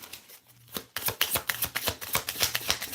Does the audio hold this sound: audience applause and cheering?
no